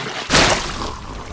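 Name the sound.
water leaking from a faucet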